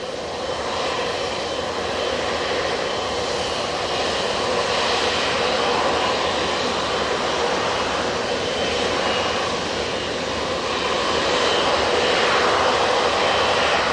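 A British Airways airliner at Manchester Airport gives a steady, loud jet engine roar that holds without a break for the whole stretch, slowly swelling near the end as it taxis or takes off.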